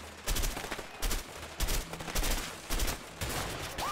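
Gunfire in the video game A Way Out, a series of loud rapid bursts of shots in quick clusters, repeated several times without pause and with no voices over them.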